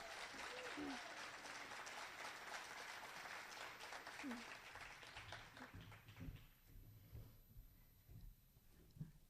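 A seated audience at a university hooding ceremony applauds with a dense, steady wash of clapping for several seconds that fades and thins out toward the end, a few scattered claps lingering.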